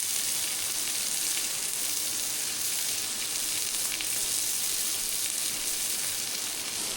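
Montreal-seasoned steak sizzling on a Blackstone griddle outdoors in the Oregon wilderness, a steady bright crackling hiss of frying fat with small pops, continuous and close, no talking.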